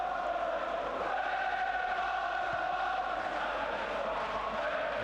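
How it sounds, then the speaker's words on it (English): Steady crowd roar fills a splendid West Midlands football stadium at an Aston Villa versus Arsenal match in the 1988/89 season, a continuous dense murmur of many voices held at an even level throughout. "Good seasonal crowd"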